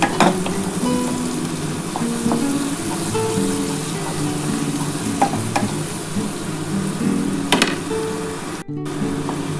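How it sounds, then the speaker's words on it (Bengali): Onions fry in a pan for a spicy lote fish dish, a steady close sizzle running throughout with scraping stirring strokes and small clinks of a utensil. "আমার কিন্তু পেঁয়াজটা হালকা করে ভাজা হয়ে গেছে আর একটু ভেজে নিই"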